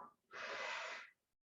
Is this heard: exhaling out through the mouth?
yes